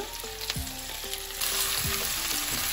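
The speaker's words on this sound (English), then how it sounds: "I'm going to let that fry up along with the potatoes and onions" Spices frying with potatoes and onions in a pan for a Gujarati onion and potato curry: a steady close sizzle with a few utensil scrapes, growing louder halfway through.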